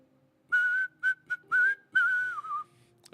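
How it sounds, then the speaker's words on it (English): A person whistles a short tune in a quiet room, five clear, close whistled phrases with brief pauses, ending on a longer, wavering note. "I'll just whistle. I'll whistle some songs for you guys."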